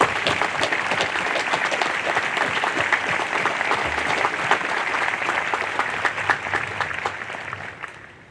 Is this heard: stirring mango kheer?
no